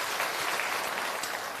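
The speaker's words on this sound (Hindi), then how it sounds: "एक बार जोरदार ताली बजाइए आदरणीय प्रसाद जी के।" Audience applause at an outdoor Jan Suraaj political gathering in Bihar: a dense, steady wash of many hands clapping together, loud and sustained throughout, with no voices standing out.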